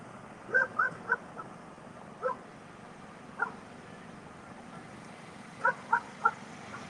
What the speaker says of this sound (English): you can hear the canine barking in the vehicle